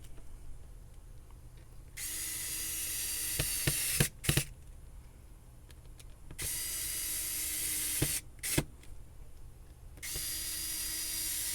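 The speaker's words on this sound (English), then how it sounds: "So we'll tighten these screws in." A small power driver tightens screws on the fan of a new-model Young Living Aria essential oil diffuser, whirring in three steady bursts separated by brief clicks and pauses, close and fairly loud with no talking.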